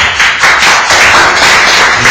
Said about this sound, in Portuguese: E as palmas louvam, Senhor Jesus.